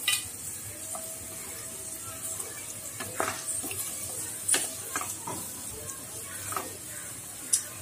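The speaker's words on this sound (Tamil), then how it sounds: "இப்போ அடுத்து மக்காச்சோளம் போடுறேங்க அதுவும் சும்மா ஒரு கைப்பிடி அளவு தான் போடுறேன் நான்" A handful of corn kernels goes into a hot frying pan and is stirred, giving a steady soft sizzle with scattered clicks and scrapes of the spoon against the pan, fairly close and without talk.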